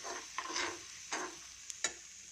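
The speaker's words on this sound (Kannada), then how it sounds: "ಚೆನ್ನಾಗಿ ಘಮ ಬರೋ ತನಕ ಹುರ್ಕೊಳ್ತೀನಿ" Dry semolina (upma rava) being stirred and roasted in a pan, faint, close scraping strokes with a few sharper clicks of the spoon against the pan.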